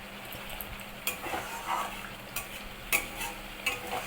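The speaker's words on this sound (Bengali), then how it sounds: "যতক্ষণ না একটু তেলটা ছেড়ে যাবে মশলা থেকে, ততক্ষণ কষাতে থাকবো" Spice masala stirred and fried in oil in a pan, giving a steady soft sizzle with a few sharper scraping clicks from the spoon at irregular moments, close and moderately quiet with no talking.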